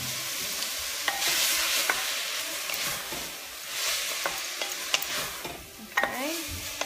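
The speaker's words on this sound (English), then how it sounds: "Now I'm gonna add my peppers and my onions." Peppers and onions sizzle and fry in a pan, a steady hiss with scraping stirs and occasional clicks of a utensil, close and fairly quiet.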